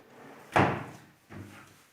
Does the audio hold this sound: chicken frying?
no